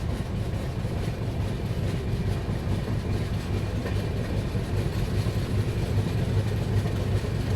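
The Magadh Express rumbles across a bridge toward Delhi, a steady, loud low roar of wheels and carriages with faint rhythmic clatter, continuous throughout with no voices.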